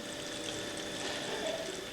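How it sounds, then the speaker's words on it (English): Distilled water trickles in a steady, soft flow out of the end of a cooled condenser tube in a lab setup, with faint continuous splashing and no talking. "the water vapour condenses and water trickles out the end"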